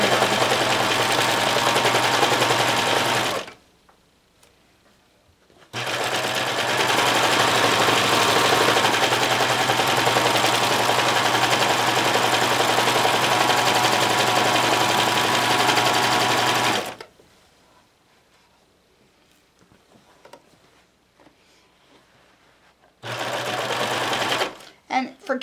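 A sewing machine runs close and loud, stitching around the edge of fabric for an armchair sewing caddy, in long steady bursts separated by pauses with quiet handling noises.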